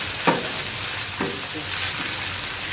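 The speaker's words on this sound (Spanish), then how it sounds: "ya que agregué la cebolla, ya va a empezar a soltar su jugo y ya le puedo subir al fuego" Onion and chiles fry in a pan for spicy octopus tostadas, a steady, close sizzle broken by a few stirring scrapes.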